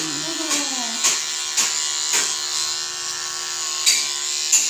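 A Surker electric shaver runs with a steady, close buzzing hum, broken by several sharper brushing bursts as it passes over hair; some faint background noise sits underneath.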